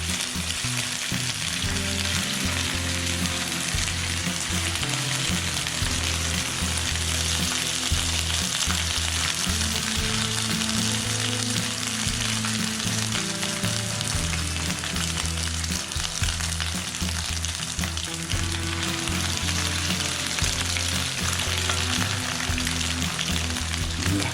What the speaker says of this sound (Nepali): अलिकति रातो रातो हुनेगरी चाहिँ हामी फ्राई गर्छौँ।